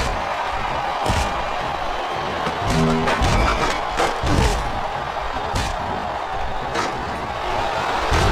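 A wrestling arena crowd at WrestleMania 22 roars and jeers during a Money in the Bank match, a steady loud wash of voices with a few sharp thuds and bursts rising above it.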